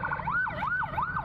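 An ambulance siren on a Jakarta street in Kelapa Gading, wailing in a rising and falling sweep about every half second, loud and close over a low traffic rumble.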